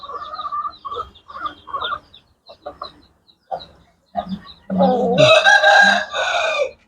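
Hens cluck in short bursts, near and fairly loud, before a rooster gives one long crow that ends the sequence, with no talk over it.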